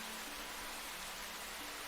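Steady rain in a dinosaur video game, a continuous even hiss with no breaks and a faint low hum beneath it.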